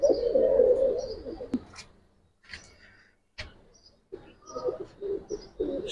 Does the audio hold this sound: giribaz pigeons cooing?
yes